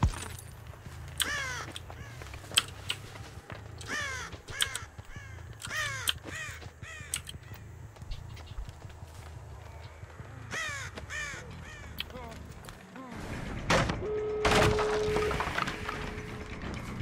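Crows cawing in the Dead by Daylight survival horror game: repeated harsh caws, some near and some farther off, scattered steadily over the stretch, followed by a louder burst of game sounds and a tonal sting near the end.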